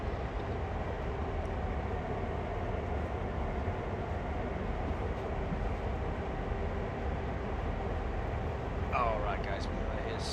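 A train in the Train Sim World game on the Northeast Corridor around New York produces a quiet, steady low rumble throughout, with a faint brief chirp near the end.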